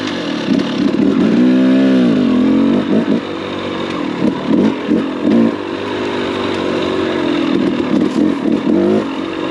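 Two-stroke dirt bike fitted with a Lectron Billetron Pro carburetor, idling and blipping with a loud, buzzy exhaust, one rising rev near the start followed by several short throttle bursts and a steady running note.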